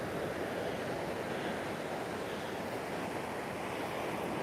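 Sea waves break steadily against a shoreline lined with big boulders placed as a sea defence on a Vietnamese beach at sunrise, a continuous loud wash of surf with wind noise and no voices.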